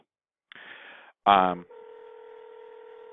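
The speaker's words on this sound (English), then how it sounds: "So you can probably hear it ringing there in the background" A phone rings in the background from an outgoing Google Voice call, a steady electronic ring tone after a brief dialing burst, faint and alone apart from a short voice.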